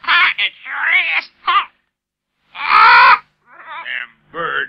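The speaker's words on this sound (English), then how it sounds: "Where's that lousy parrot come from?" Parrot squawking in a 1969 Tarzan cartoon, a series of loud, harsh, raspy squawks and screeches in bursts with short silences between, up close.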